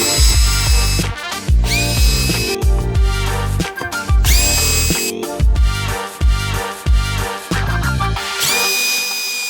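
Power tool driving screws out of a car's center console in a 1990 Honda CRX Si, loud repeated whirring bursts that spin up and stop, several in a row, with no talk.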